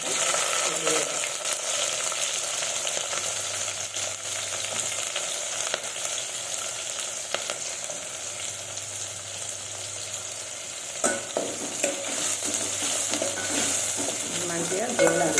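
Cumin, mustard seeds and green chilies fry in hot oil in a pan while being stirred, a steady close sizzle with occasional scraping strokes of the spoon throughout.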